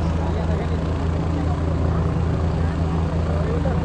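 A helicopter lifting off after a political rally in Bihar, a steady loud low rotor and engine drone close by, continuous throughout with crowd noise underneath.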